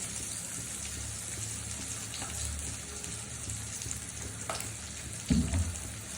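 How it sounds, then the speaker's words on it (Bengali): Ground spices with salt, turmeric, chili and coriander powder for a mustard fish curry sauté in a hot pan, a steady close sizzle with a louder scrape of stirring near the end and no voices. "মশলাটা ভালো করে কষিয়ে দিই।"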